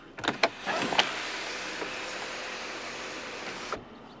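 The power sunroof motor of a 2009 Volkswagen Jetta SE gives a few clicks and then a steady mechanical whir for about three seconds before it stops. The sound is close and moderately quiet inside the cabin, with no speech.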